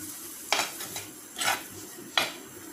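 A spoon scrapes and clinks against a metal pan in a few separate strokes, stirring chicken bones in masala, with a faint sizzle underneath.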